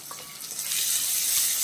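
Chopped onion dropped into a hot pan with ginger, garlic and green chili for pepper chicken, giving a steady soft hiss of frying with light stirring scrapes.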